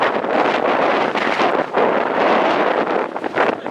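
Strong wind gusts roar and buffet the microphone steadily at an outdoor ultimate frisbee regional tournament, loud and continuous with slight surges, and no clear talk above it.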